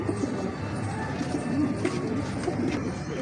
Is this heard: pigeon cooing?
yes